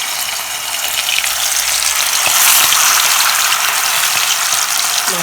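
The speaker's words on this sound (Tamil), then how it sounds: "இதை நல்லா எண்ணெயில் போட்டு இப்போ பொரிச்சிக்கலாம்" Fish frying in hot oil in a home kitchen, a loud steady hiss and crackle of sizzling that continues without pause.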